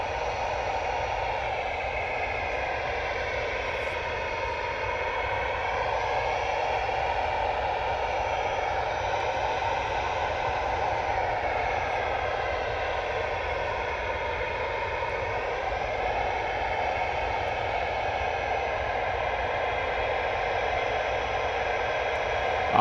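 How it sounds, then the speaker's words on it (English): A Ryanair passenger jet at Manchester Airport gives a continuous, steady engine roar with a whining, slowly shifting tone, heard at a distance over a hissy background with no talking. "Our first Ryanair of the show."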